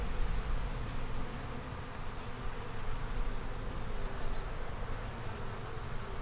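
Honey bees drone steadily inside a small nucleus hive with a yellow queen, eggs and brood, a close, dense, continuous buzz with occasional higher whines of individual bees passing.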